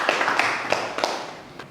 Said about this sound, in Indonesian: sekali lagi tepuk tangan untuk ketiga kelompok yang sudah presentasi